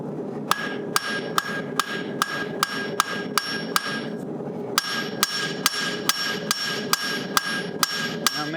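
Steady hammer blows ring out as a blacksmith forges a steel J hook on an anvil, roughly two strikes per second, each a sharp metallic clang over a low hum, with a brief pause near the middle.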